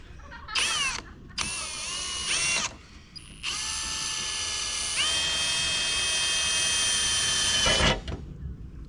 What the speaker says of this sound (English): Time to get drilled, eh, boys?